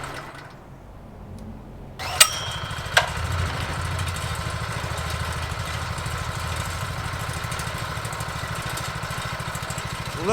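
A Triumph Scrambler 400X motorcycle engine starts with a sharp catch, then settles into a steady, even idle, close up and continuous with no talk.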